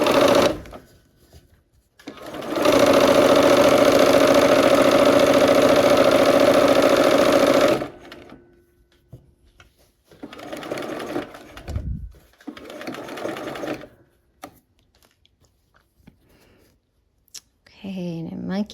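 A sewing machine stitches the last seam of a quilt block, one loud steady whir of about five seconds, followed by shorter bursts of handling noise and quieter pauses.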